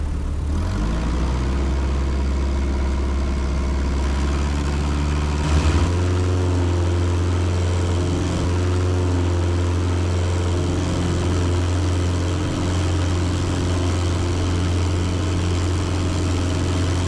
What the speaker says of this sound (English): My first tail wheel landing in a while.